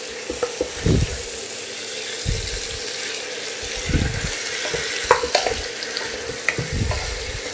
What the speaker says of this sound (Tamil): இப்போ இதில் நம்ம மேரினேட் பண்ணி வச்சோம் இல்லையா மட்டன், அதை சேர்த்துக்கலாம். இது நல்ல ஒரு 5 நிமிஷம் இதிலேயே வந்து ரோஸ்ட் பண்ணணுங்க.